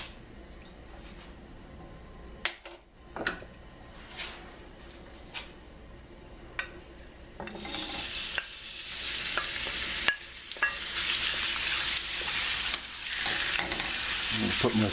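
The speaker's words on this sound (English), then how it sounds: "Get that peanut oil in there, and we're going to top it off with just a little sesame oil when it's done." Peanut oil sizzles in a pan for an Asian-style shrimp and broccoli dish; quiet at first with a few scrapes, then the frying swells into a loud, dense, continuous hiss for the last half.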